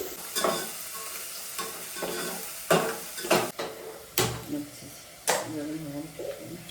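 Onions fry in a pan, sizzling close with repeated loud stirring scrapes and clinks of utensil on metal at irregular intervals, and brief talk underneath.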